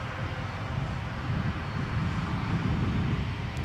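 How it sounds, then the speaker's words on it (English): An EasyJet airliner taxis along the taxiway at Edinburgh airport, its engines giving a steady, loud, broadband roar that swells slightly and holds without a break. "EasyJet beetling up the track behind"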